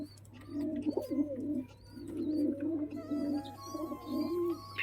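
A pigeon coos nearby in three or four rolling, throaty phrases, with faint higher chirps from other birds in the background.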